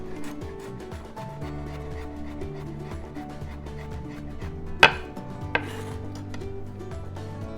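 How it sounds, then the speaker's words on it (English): A knife chops half a shallot and three garlic cloves on a board in steady, rapid taps under background music, with a couple of sharper knocks partway through. "Meanwhile, chop half of shallot, chop 3 cloves of garlic as well."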